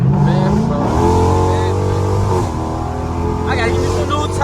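A straight-piped widebody Dodge Scat Pack accelerates at wide open throttle, a loud, raspy engine roar climbing in pitch with a brief shift dip, heard from inside the car while someone talks over it.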